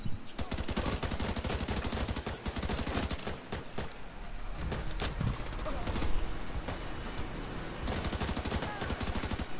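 Rapid bursts of minigun fire rattle in Tom Clancy's The Division 2, with dense repeated volleys broken by short pauses and some voices talking underneath.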